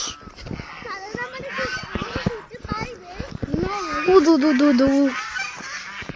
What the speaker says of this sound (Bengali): ওই রাজহাঁস